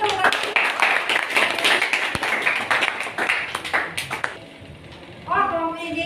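A classroom of students claps together in a lively burst of quick, close hand claps that stops abruptly, followed by voices speaking.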